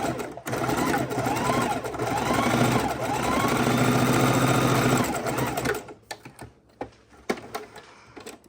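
A home sewing machine runs a quarter-inch seam on a small fabric pocket tissue holder, whirring steadily and close for about five seconds before stopping, followed by scattered handling clicks and taps.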